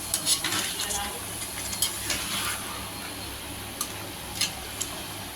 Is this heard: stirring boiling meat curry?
yes